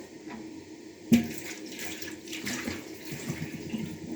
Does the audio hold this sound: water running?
yes